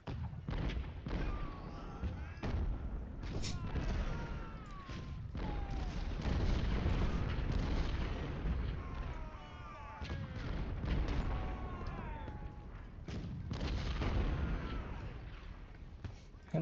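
Artillery fire rolls through a Civil War battle at Gaines' Mill in Ultimate General Civil War, distant thuds and booms repeating irregularly over a dense, continuous battlefield din.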